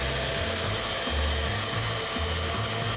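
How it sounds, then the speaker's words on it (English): A kitchen blender purees spring pea soup until smooth, giving a steady, dense motor whir with a low churning pulse, loud and continuous, with no talking. "Start it on low, let it blend through, and then turn it up to high and let it get very, very smooth as your blender will get it."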